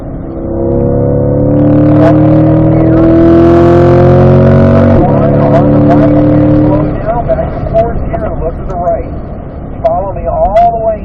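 A car in fourth gear on a race track rolls into a turn, its engine droning loud and steady with harmonic whine, then easing off as it coasts; an instructor talks over it throughout.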